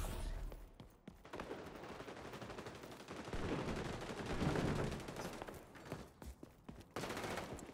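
MP7 submachine gun firing in the shooter game XDefiant, with repeated rapid bursts of automatic fire and overlapping shots throughout.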